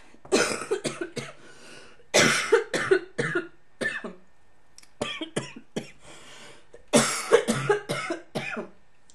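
Repeated harsh coughing fits, several clusters of sharp chesty coughs close to the microphone separated by short quiet pauses.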